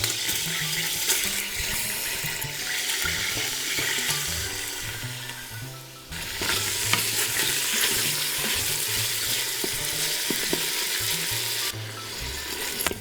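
Beef sizzling as it sears in a pot for boeuf bourguignon, a constant loud hiss and crackle of hot fat close up, with occasional scraping and clinks of a utensil against the pot.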